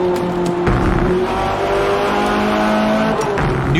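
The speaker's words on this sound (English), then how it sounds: "Hear Forza Motorsport like never before. Every tire squeal, every engine, lap after lap." Race cars in the Forza Motorsport video game roar with loud sustained engine drone and shifting revs, overlaid by tire squeal, a continuous dense racing soundscape with no talking.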